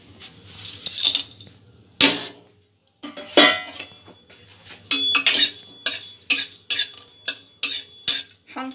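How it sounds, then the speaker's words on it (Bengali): Whole spices like cloves, mace and nutmeg dry roasting in a pan, stirred with a metal spoon that scrapes and clinks against the pan in sharp, irregular strokes, with brief quiet pauses between bursts. "এগুলো সমস্ত প্রথমে আমি ড্রাই রোস্ট করে নেব।"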